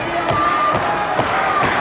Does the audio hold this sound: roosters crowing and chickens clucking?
no